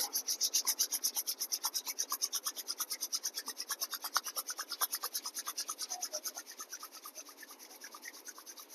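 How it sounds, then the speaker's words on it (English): Hands rubbing briskly together in a fast, steady back-and-forth rhythm, close and soft, a continuous dry swishing that lasts throughout without any talking. "Rub your hands."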